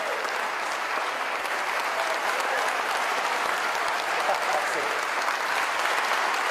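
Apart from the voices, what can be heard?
people clapping, applause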